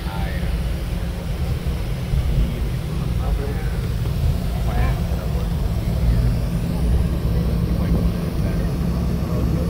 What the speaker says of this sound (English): We are on the runway, about to take off from Los Angeles, headed to Las Vegas.